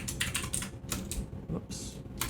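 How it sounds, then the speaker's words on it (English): Fingers typing an email address and password on a computer keyboard, a quick run of close, crisp key clicks in uneven bursts with short pauses between. "I'm gonna type in my email and password."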